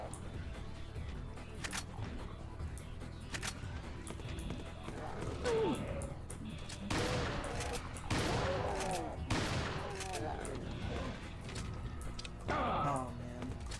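Gunfire from the video game Resident Evil 4 Mercenaries comes as scattered bursts of shots among clanking game sounds, with a voice speaking at times between the shots.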